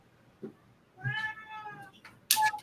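A domestic cat meows in a drawn-out, wavering cry at close range, followed by a shorter sharper call, with quiet background between them and no talking.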